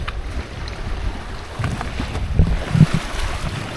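A Hobie Cat 16 catamaran sails in a good breeze at about 6 to 7 knots near Croatia, with steady wind rush across the microphone and occasional water slaps against the hulls.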